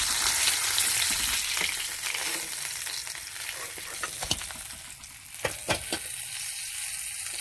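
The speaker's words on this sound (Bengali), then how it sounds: "মাছটা ভালো করে ভাজা হয়ে গেছে, দু পিস।" Pieces of fish frying in hot oil, a steady close sizzle with occasional sharper crackles and spatters, no talking.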